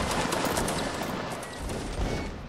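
Musket gunfire crackles in Mount & Blade: Napoleonic Wars, a dense volley of overlapping shots close by, loud and rattling throughout the short burst.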